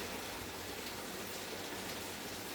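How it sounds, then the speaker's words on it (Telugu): Rain falls outside in a steady, even hiss that stays soft and distant, unbroken for the whole short stretch. "బయట వర్షం వస్తుంది"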